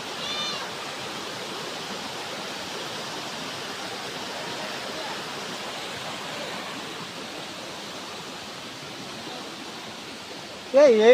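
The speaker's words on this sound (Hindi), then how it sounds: "बढ़िया है झरणा पूरा मस्त है" Steady broadband rush of a waterfall at the Baba Jatadhari site, a continuous wash of falling water held at even loudness throughout, with a brief voice rising near the end.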